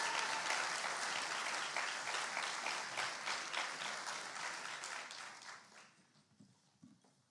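Applause from the crowd at a high school awards event, a thick, loud wash of clapping that tapers off over the last couple of seconds, with faint murmurs as it dies down.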